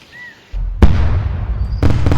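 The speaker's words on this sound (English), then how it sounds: "That was a bigger explosion than last." Firework blasts in the Firework Playground video game: a sharp bang followed by a sustained crackling roar, then a second burst of noise near the end, loud and close.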